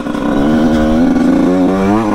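A motocross motorcycle engine running close and loud, a steady buzzing drone whose pitch wavers slightly as the throttle changes.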